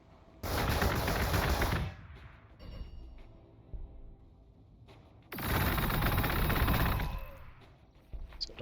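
Missile fire in the strategy game Warhammer 40,000: Gladius, two loud rushing, roaring launch bursts of about one and a half seconds each, separated by quieter rumbling and faint clicks, with no talking.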